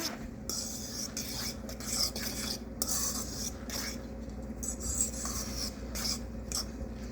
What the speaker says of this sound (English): So let me just use that fork. There we go. Now stir it up good.